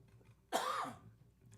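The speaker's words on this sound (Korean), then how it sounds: "이 시간이 되면 기침이 이렇게 많이 나네요." A single close, raspy cough, short and sharp, in an otherwise quiet room.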